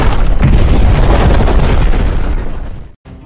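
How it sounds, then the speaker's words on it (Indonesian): Bombs striking a target in a film, heard as a loud, deep, rumbling blast that roars for about three seconds, then fades and cuts off abruptly, with no talk. "langsung melepaskan 2 bom tepat sasaran dan boom"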